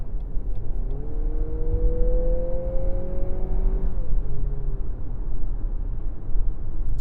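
2025 Lexus NX 350 F Sport accelerating on the highway, engine note rising steadily in pitch for a few seconds before easing off, heard from inside the cabin under constant road and tire noise.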